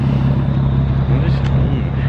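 An Infiniti G37 with its muffler and resonator deleted idles loud and close with a deep, steady droning rumble, while people talk briefly over it.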